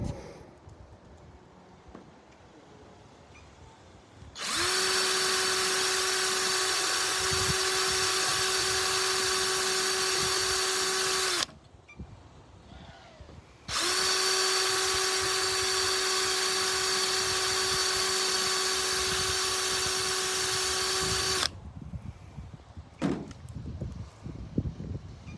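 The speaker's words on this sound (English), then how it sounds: "I'm just gonna drill these rivets out like I just did." A power drill bores out rivets on a worn truck camper shell during rear window glass replacement, two long steady high-pitched whines of about seven seconds each separated by a short pause, close and loud, followed by light clattering.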